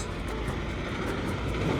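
Renault truck arriving in Spain: a continuous, fairly loud engine rumble and road noise from a heavy vehicle rolling in, steady for a couple of seconds with no talk.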